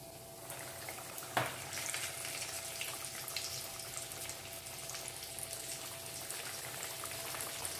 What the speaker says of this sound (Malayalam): നമ്മുടെ എണ്ണ ചൂടായിട്ടുണ്ട്, ഫിഷും റെഡിയായിട്ടുണ്ട്. ഞാനതിനെ വറക്കാനായിട്ട് ഇടും.